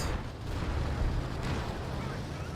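Close-range artillery barrage in Company of Heroes 2, a dense rumbling wash of low booms and crackling blasts running continuously at moderate loudness.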